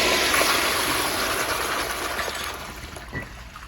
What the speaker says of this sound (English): Here's a flush with the